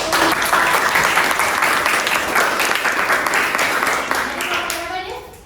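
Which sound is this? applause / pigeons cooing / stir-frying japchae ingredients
applause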